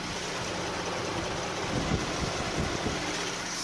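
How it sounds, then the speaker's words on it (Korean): A Genesis G80 all-wheel-drive sedan with about 190,000 km idles steadily with the hood open, recorded up close: a smooth continuous hum with faint mechanical whir and no voices. "바로 가까이서 엔진 사운드 담아드리도록 하겠습니다"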